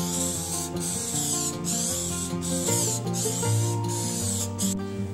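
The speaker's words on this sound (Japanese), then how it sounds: "スプレーする準備できましたので早速色を染めていきたいと思います" Black fabric dye hisses from a spray can onto cloth in a series of sustained bursts with brief pauses between them, backed by a steady musical background.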